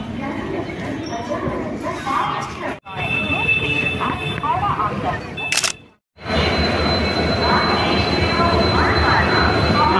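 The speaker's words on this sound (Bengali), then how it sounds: "আমরা এই ট্রেনটায় উঠবো, এটা চক্রধরপুর" The Chakradharpur train stands at Howrah station at night, its steady rumble and platform hum filling the scene with brief drops and a sharp clatter, while people talk close by.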